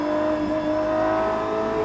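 A GMA T.50 supercar engine revs while driving, giving a steady, loud, high-pitched mechanical whine that holds throughout from inside the moving car, with no talking.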